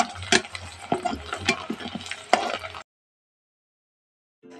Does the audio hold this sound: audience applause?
no